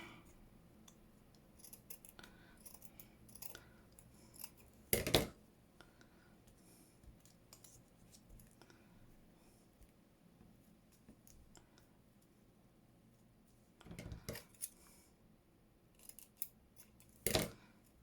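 Scissors snip a strip of lace for a junk journal tag: a few crisp, isolated cuts spaced far apart in a quiet room, with soft handling noises and faint murmuring between them.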